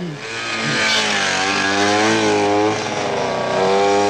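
A motorcycle engine runs loud and steady close by for about four seconds, its harmonic drone rising slightly and holding with no one speaking over it.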